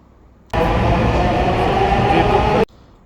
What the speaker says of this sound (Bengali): এই যে এটা হচ্ছে আগারগা মেট্রো রেল স্টেশন দুই পাশে ট্রেন আছে